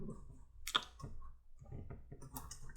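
Clicking keystrokes on a new computer keyboard, a few quick taps and one sharper click, fairly close, with soft background noise of a room.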